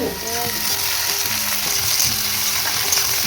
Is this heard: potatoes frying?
yes